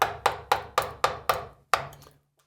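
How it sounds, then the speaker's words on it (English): A chisel chops down into wood with seven sharp, evenly spaced strikes, each a crisp near knock that decays quickly, with a brief pause before the last blow. "Put your chisel at an angle, and then as you're chopping down towards your cut"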